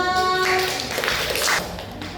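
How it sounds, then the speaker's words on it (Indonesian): Classroom applause for a student named Excel: a short burst of dense clapping from a group of children, steady and fairly close for about two seconds. "Aplaus untuk Excel"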